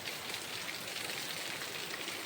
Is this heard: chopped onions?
no